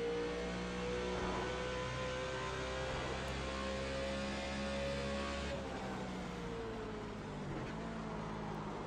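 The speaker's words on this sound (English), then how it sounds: "those low RPMs. Or should I say high RPMs, downshifting into the corner" A NASCAR Nationwide race car in iRacing at Phoenix screams at high RPM and then downshifts, the engine note dropping and blipping as it brakes into a corner, loud, close and steady without speech.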